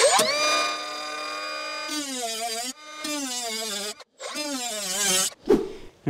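A 3-inch cutoff wheel slices rusted metal from a Porsche 911 Carrera body, a high, close whine that drops in pitch each time the disc bites, broken by brief pauses between cuts.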